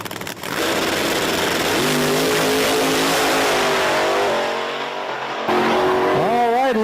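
A drag race car makes a full pass at Virginia Motorsports Park during an Outlaws drag racing event, loud and close. The engine rises in pitch through the gears with a brief dip near the end, then climbs sharply again.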